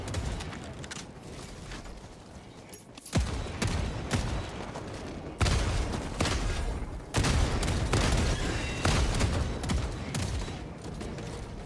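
Autocannon fire in Helldivers 2 on Helldive difficulty, a loud sustained barrage of heavy booming shots with dense explosive bursts, brief pauses between volleys, continuing across the whole stretch without talk.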